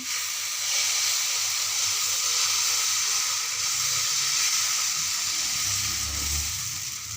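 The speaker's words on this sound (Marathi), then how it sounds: "तर आता डोसा पसरवून घेऊया" Green moong dosa batter spread across a hot, oiled tawa, giving a steady close sizzle with a soft frying hiss that holds throughout with no speech.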